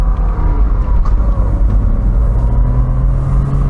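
Porsche 987 Boxster with a rear-mounted 2.7 litre flat-six petrol engine, heard from inside while driving as a loud, steady low engine drone and road rumble without speech.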